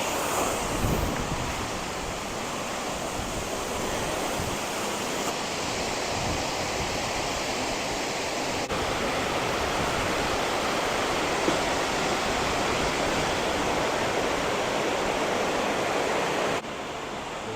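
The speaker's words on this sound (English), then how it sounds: "I do apologize for the noise because we are by a fall" Falls Park on the Reedy in Greenville, South Carolina: a waterfall roars as a steady, loud, unbroken wash of rushing water, heard up close with no voices.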